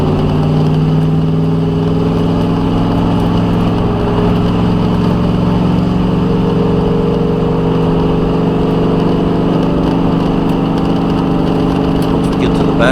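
A NASCAR stock car accelerates hard down pit road at Michigan International Speedway, its engine a loud, continuous roar close at hand that holds steady and strong throughout with no pauses.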